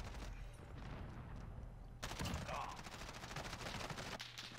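Rapid automatic fire from an M4A1 rifle in a video game shooter crackles in dense bursts, loudest in the second half, with brief pauses between strings of shots.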